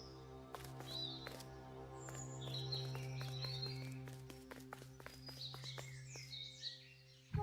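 Birds chirp in the video game The Last Campfire, scattered high tweets over a steady low hum and ticking background, quiet throughout and with no speech.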